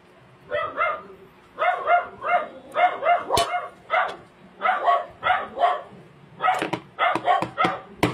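Dogs bark angrily in rapid repeated volleys of sharp, mid-distance barks with brief pauses between bursts, continuing steadily throughout.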